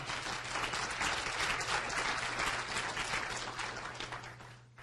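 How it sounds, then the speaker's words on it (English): Audience applause at an awards reception, with dense continuous clapping filling the room that slowly tapers off toward the end over a faint steady hum. "Let's give them a round of applause."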